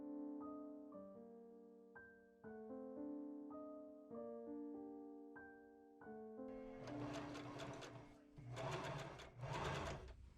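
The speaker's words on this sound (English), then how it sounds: "I machine sew close to the edge all around the twill tape to hold it in place." Sewing machine stitching close to the edge of twill tape on a skirt waistband, a rhythmic mechanical whir that starts and stops in short runs, growing busier and louder toward the end.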